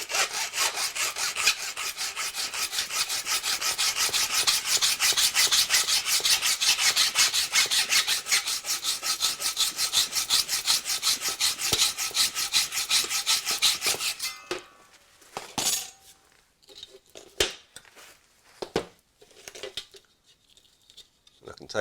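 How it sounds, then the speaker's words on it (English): A saw blade cuts through a high-grade aluminium stair bar with a steady, loud, continuous rasping buzz for about fourteen seconds, then stops, leaving quieter scattered handling clicks and knocks. "As it is a higher grade aluminium, it does take a little bit longer to cut"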